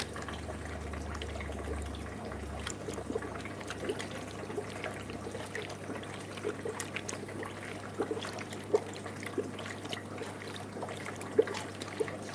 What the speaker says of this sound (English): Which means we can start filling this tank here.